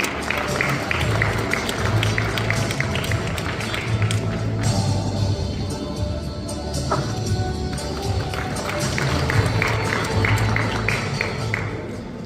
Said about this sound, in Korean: 큰 박수로 다시 한번 맞이해 주시기 바랍니다